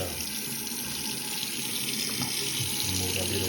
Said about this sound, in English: Turn the water on there.